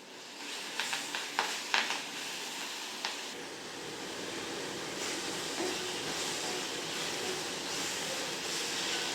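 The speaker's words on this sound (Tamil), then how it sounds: "அடுத்தது வெங்காயம் போடணும். போட்டு நல்லா வதக்கி விட்டுறணும்." Green chilies and onions are sautéed in a pan for Dindigul mutton biryani, opening with several sharp clinks of a spatula against the pan before a continuous frying sizzle takes over, close and steady.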